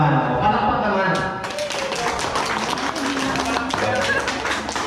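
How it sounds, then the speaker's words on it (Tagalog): Clapping from a batch 2000–2001 high school reunion crowd, a steady burst of hand claps mixed with chatter and voices throughout. "Palakpak naman."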